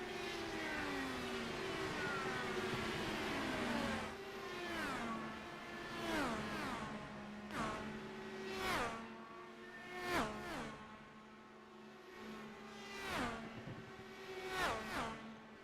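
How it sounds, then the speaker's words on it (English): Indy cars at Homestead race past one after another, each high-revving engine rising and then dropping in pitch as it flies by, a steady stream of loud, whining pass-bys over roughly a dozen seconds. "We listen to the sound of these Indy cars. Incredible sounds, they fly by."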